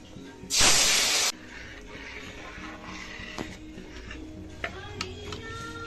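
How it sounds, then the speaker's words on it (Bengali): Boiled mung dal hits a hot kadai of fried tempering spices with a sudden loud hiss lasting under a second, then settles into a faint sizzle broken by a few light clinks and taps. "এখন আমি সিদ্ধ করে রাখা মুগের ডালটা কড়াইতে দিয়ে দেবো"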